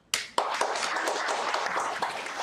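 A church congregation applauding at a combined Mandarin and Taiwanese Sunday service, a sparse scattering of claps that quickly thickens into steady, fairly loud applause from a room full of people.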